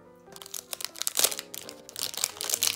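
Crinkling plastic packaging being torn open around magnetic math toy pieces, with bursts of close, crackly rustling and crumpling over a few seconds.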